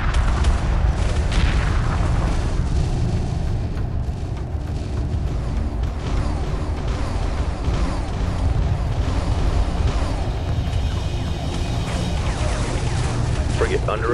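Space battle weapons fire and explosions in Homeworld 2 make a dense, continuous barrage of booms and crackling shots, loud and unbroken, with voices talking through it.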